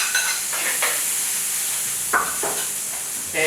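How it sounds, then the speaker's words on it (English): Garlic and tomato sauté in a paella pan on an electric stove, a bright steady sizzle close up with a few short bursts of louder crackle as the pan is stirred. "Now we're going to go with the garlic and the tomato. Here we go. Sauteing"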